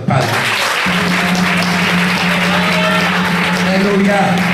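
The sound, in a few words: applause in church service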